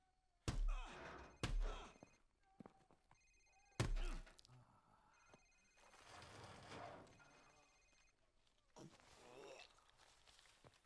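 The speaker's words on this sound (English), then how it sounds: "Sir, it's his cell phone." A cell phone rings in the Call of Duty 4 video game, a faint electronic tone sounding in short repeated bursts amid loud slams, thuds, footsteps and shouting voices.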